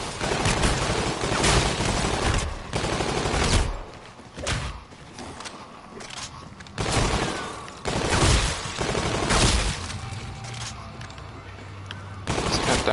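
An FHR gun fires in bursts during the zombie video game Zombies In Failand, with loud rapid volleys alternating with short gaps and thuds.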